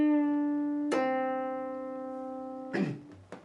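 Slow guitar lick from a song: a sustained note is picked once and bent up a full step, rings, then a second attack and a short muted tail follow.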